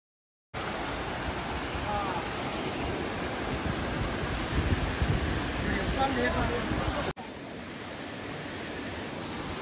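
Dugarwadi waterfall near Nashik, Maharashtra, flows heavily in a dense, steady roar of rushing water, broad and continuous, shifting slightly in tone near the end.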